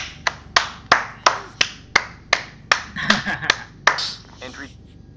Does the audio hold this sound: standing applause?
yes